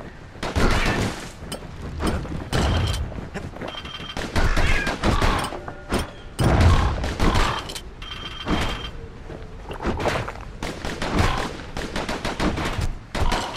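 Dense, rapid gunfire from the action game Bastion, with loud bursts of shots crackling nearly nonstop alongside other game effects, close and punchy throughout.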